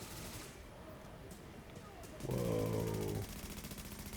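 Sentry gun firing in The Division open beta, a dense burst of rapid automatic shots lasting about a second, loud over background game noise, with a brief exclamation from a player.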